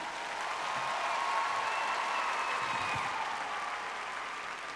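A concert audience gives a loud, sustained round of applause. Dense clapping from a large crowd holds steady throughout with no speech.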